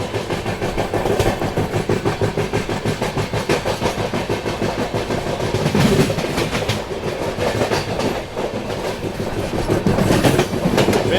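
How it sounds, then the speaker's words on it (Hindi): The 12286 Secunderabad Duronto Express runs at speed, a loud continuous roar with steady clickety-clack of wheels over rail joints, heard from on board with no talk. "अच्छी खासी रफ्तार में फिलहाल ग्वालियर स्टेशन को हम लोग स्किप करने वाले हैं।"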